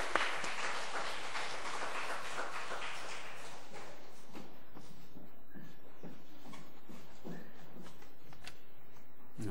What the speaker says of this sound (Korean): 우리 부장님 나오실 때 잠깐 박수로 맞도록 하겠습니다